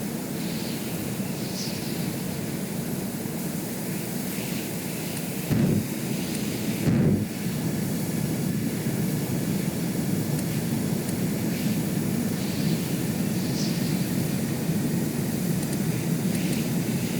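Flight sim aircraft in Stormworks stalling while stuck upside down, a steady broadband roar like engine and rushing wind running throughout, with two brief louder bursts midway.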